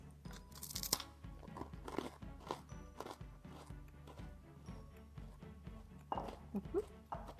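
Crunchy blueberry muffin biscotti being bitten and chewed up close, with repeated short crunches and chewing through a quiet room and no talk.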